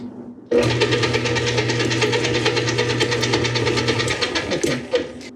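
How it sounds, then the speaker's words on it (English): A stand mixer fitted with a paddle attachment churns butter and flour on low speed, giving a steady, close mechanical whir with a fast regular rhythmic clatter that runs without pause. "I'm going to put all of our butter in here with our flour on the mixer, set with a paddle attachment"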